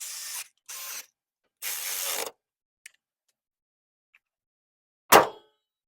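A few bursts of ratcheting while bolts are tightened on a 2007-2011 Toyota Camry headlight, separated by silence, followed by a faint tick and one sharp closing clank near the end, close and alone.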